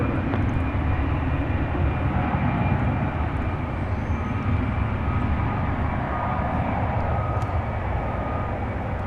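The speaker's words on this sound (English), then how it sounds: "It's an A319 going to San Antonio" An American Airlines Airbus A319 jet airliner at DFW Airport at night, its engines a steady, broad roar that holds evenly throughout without any talking.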